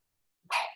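A single short, breathy sneeze bursts out after silence, close and fairly loud, with no talking around it.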